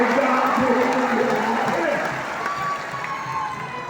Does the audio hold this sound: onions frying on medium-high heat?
no